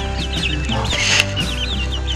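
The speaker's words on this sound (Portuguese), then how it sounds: "E aqui eu vou soltar mais garnizazinhos." Bantam chickens cluck and chatter in a busy farmyard flock, with repeated short calls overlapping continuously at close range over a steady background.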